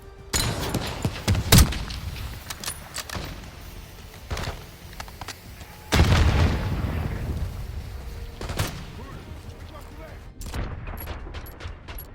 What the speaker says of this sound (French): Je jette une grenade!